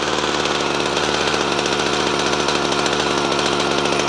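A Husqvarna Redmax Poulan hedge trimmer's small two-stroke engine idles steadily with a fast, even buzzing pulse, close and continuous, with no voices.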